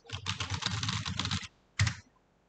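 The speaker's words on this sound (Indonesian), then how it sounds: "Misalkan kita lanjut kerja, kita ketik, ketik, ketik, ketik." Someone types quickly on a computer keyboard, close and fairly quiet: a dense run of keystrokes, a short gap, then one more brief burst of keys.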